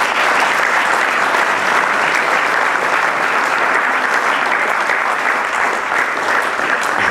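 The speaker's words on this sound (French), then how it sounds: "donc je pense qu'on peut les applaudir." A festival awards-ceremony audience at FIFIGROT 2019 applauds the screenwriters in loud, steady, unbroken clapping that fills the hall for several seconds with no speech over it.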